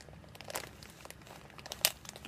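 A mailed plastic bag package is torn open by hand, with close, quiet crinkling and crunching plastic in irregular bursts and one sharper rip.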